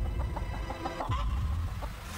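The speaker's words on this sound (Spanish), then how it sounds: "Oh, esta gallina está muy tranquila." Chicken clucking close by, a run of short soft clucks over low rumbling background noise.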